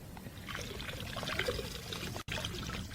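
Water trickles and pours steadily off rinsed fishing maggots, a soft, close splashing dribble that ends with a brief cutoff near the finish.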